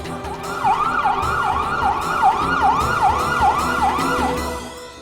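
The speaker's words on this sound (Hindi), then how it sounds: "एम्बुलेंस।" An ambulance siren wails in a steady, repeating up-and-down pattern, loud and close, cycling about twice per second with traffic rumble faintly beneath.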